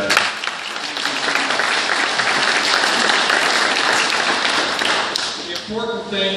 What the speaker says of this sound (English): Round of applause for those two guys